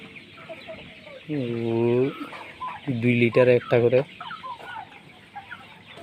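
Broiler chickens fed once a day, weighing over 3.5 kg, cluck and squawk in two loud bursts close by, the second a quick run of calls, while someone talks briefly in between.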